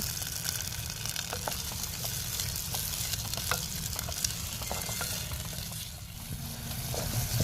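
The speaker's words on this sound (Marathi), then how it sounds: "आता कांदा मस्त परतून घ्यायचा आहे गोल्डन ब्राऊन होईपर्यंत" Onion frying in a clay pot by a riverside, a continuous close sizzle with frequent light clicks and scrapes of stirring throughout, and no voices.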